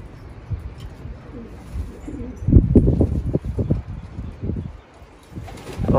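Soft, low pigeon cooing repeats in short bursts close by, with some rustling and faint background noise.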